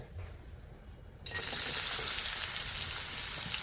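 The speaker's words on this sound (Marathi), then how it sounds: "कांदा मस्त खरपूस भाजून घ्यायचा कांदा भाजत असताना हलवत राहायचं" Onion frying in a spoonful of oil in a kadhai while being stirred; after a quieter second, a loud, steady, close sizzle bursts in and continues.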